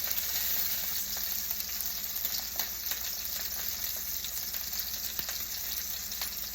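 Steak fries in olive oil with a dense, steady sizzle and hiss, continuous and close, dotted with small pops and crackles and no voices over it.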